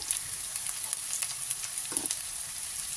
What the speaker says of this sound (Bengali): এবার আমি পেঁয়াজটাকে সরষের তেলের মধ্যে ভেজে নেব।